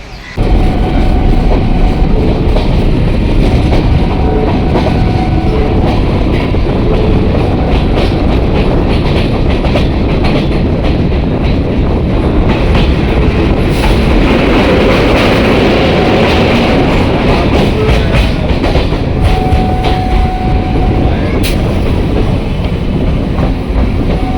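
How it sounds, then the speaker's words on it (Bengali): A Kolkata train rumbles steadily along the rails past Babughat after leaving Eden Gardens station, loud and close, with a continuous roar, faint rhythmic clatter and occasional higher metallic squeals. "ইডেন গার্ডেন স্টেশন ছেড়ে ট্রেন এখন বাবুঘাট জেটিঘাট পার করে চলেছে"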